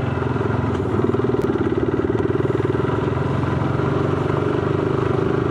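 A Yamaha R15 V2 motorcycle engine runs at a steady, close, throbbing idle-like pulse with a rapid even beat that holds for the whole stretch without revving.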